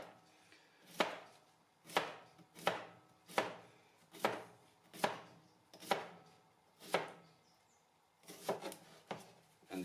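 A knife slices cucumbers on a cutting board for pickles, producing about a dozen crisp, evenly spaced chops up close in a quiet room, the last few coming in a quicker cluster.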